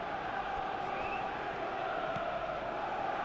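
A stadium crowd in the PES 21 football video game, before a Tottenham Hotspur versus Manchester City match, forms a continuous dense roar with a faint whistle-like rise, steady and broad without clear breaks.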